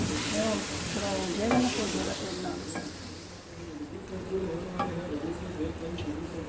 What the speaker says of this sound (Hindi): और इसको अच्छे से भूनना है।